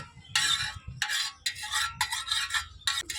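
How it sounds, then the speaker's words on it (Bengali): Metal spatula scraping and spreading oil across a hot griddle pan in very hot weather, a run of close, bright rasping strokes with brief pauses between them. "তো আমি খুন্তিটার সাহায্যে এটা করে দিচ্ছি, পুরোটাই ছড়িয়ে দিচ্ছি তেলটা।"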